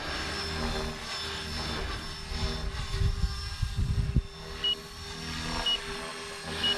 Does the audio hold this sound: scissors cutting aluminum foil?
no